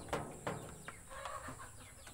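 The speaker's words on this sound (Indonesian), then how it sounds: "Ini anak ayam Bangkok yang umur" Bangkok chicken chicks, about two and a half months old, give a few faint, short clucks and peeps in quick bursts against a quiet, steady background.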